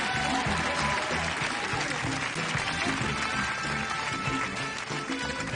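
A studio audience at a stage hypnosis show applauds a celebrity contestant, steady clapping running throughout with a voice talking over it.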